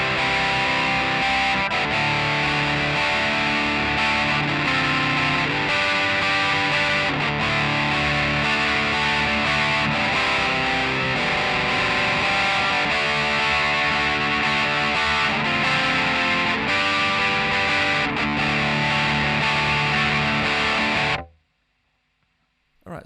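Distorted electric guitar plays a pre-chorus, a steady, dense wall of loud, sustained chords lasting about twenty seconds alone before stopping abruptly.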